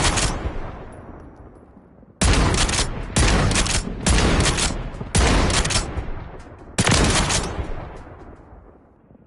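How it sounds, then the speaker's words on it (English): A shotgun fired on a firing range in Call of Duty MW3, five loud booming blasts spaced about a second apart, each decaying into a ringing tail. "So here is the shotgun."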